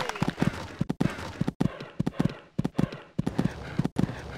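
Horse hooves clip-clop in a quick, even rhythm during show jumping in the Equestriad 2001 video game, with brief gaps between bursts of strides.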